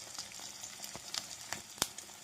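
An egg fries in hot oil, giving a quiet, close crackling sizzle with scattered sharp pops and spits.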